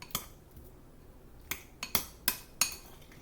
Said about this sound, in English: And then all you want to do is mix it up together.